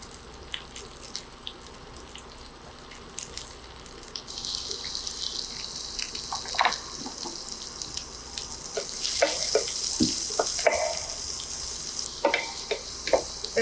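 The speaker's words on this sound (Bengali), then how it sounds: "পেঁয়াজটা যখন একটু শ্যালো ফ্রাই হয়ে আসবে" Onion shallow frying in a pan for fish kebab, a steady close sizzle with scattered stirring clicks and scrapes, no talking.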